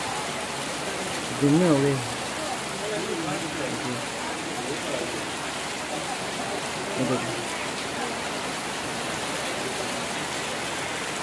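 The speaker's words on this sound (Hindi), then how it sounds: "हमारे चिंतवा मंडी में आज इतनी बारिश हो रही है, देखो मूसलाधार बारिश हो रही है।" Torrential monsoon downpour over a vegetable market, a dense steady roar of rain on surfaces throughout, with someone speaking briefly near the start and a faint voice later.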